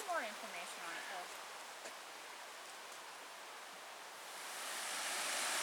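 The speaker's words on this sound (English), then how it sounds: "And this will be the Nonesuch waterfalls." The Nonesuch waterfalls on a low river in the Porcupine Mountains give a steady, faint broadband rush that swells toward the end, with a voice speaking briefly at the start.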